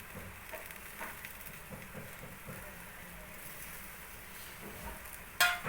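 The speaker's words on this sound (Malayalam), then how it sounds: "ഇപ്പോൾ തക്കാളി ഇടാം." Tomatoes go into a simmering tuna curry in a pan, giving a soft steady sizzle and bubbling with light stirring scrapes, ending in a short sharp clatter near the finish.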